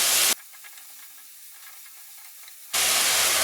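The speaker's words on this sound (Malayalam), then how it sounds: "മിക്സ് ചെയ്യുക." Ginger-garlic paste stirred into a chicken perattu masala in a hot pan: loud, steady frying sizzle that drops to a quiet hiss for a couple of seconds mid-stir, then surges back up.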